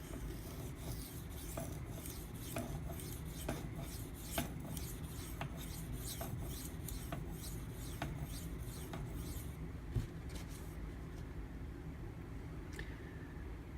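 A Spyderco Manix 2 knife with a Maxamet steel blade is stroked across a 1500 grit CBN waterstone, giving faint, close scraping and rasping with a regular series of brief strokes over quiet background hiss.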